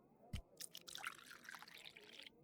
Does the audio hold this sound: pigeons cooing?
no